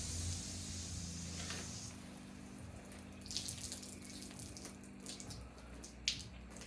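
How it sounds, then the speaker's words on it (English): Water poured or splashed onto a basement floor ahead of laying concrete, a steady soft wash of running water with a couple of brief splashes near the end, fairly quiet and close. "We'll just put a little water on there."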